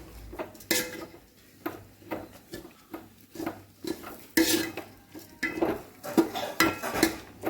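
Rice being stirred and fried in a pan with a spoon, giving repeated scraping and clinking strokes against the metal at a steady rhythm, close up under a faint sizzle.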